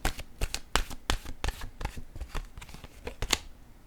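Tarot-style cards shuffled by hand in quick riffling bursts, a rapid run of crisp slaps and flutters heard up close with no voices.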